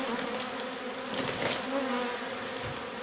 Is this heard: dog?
no